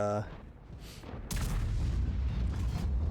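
A tank gun firing in World of Tanks lands as a heavy boom followed by a rumbling, sustained roar, with a voice speaking briefly at the start.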